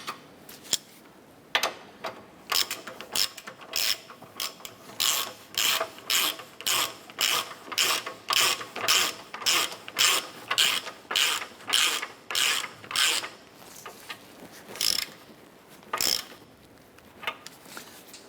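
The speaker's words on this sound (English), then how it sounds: "Let's go ahead and install our lower ball joint nut." A hand ratchet clicks in quick, regular bursts while tightening the lower ball joint nut on a 2008-2012 Honda Accord, the close metallic ratcheting strokes repeating steadily in a quiet garage.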